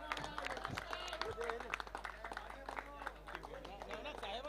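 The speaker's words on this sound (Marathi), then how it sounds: "सर्व कमिटी मेंबर जोरदार टाळ्या नवनाथसाठी झाल्या पाहिजेत." Applause from committee members at a prize ceremony for a cricket tournament, steady clapping running throughout alongside a speaking voice.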